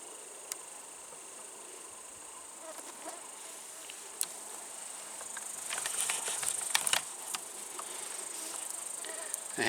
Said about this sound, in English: mosquitoes are buzzing around quite bad, and these are black flies here.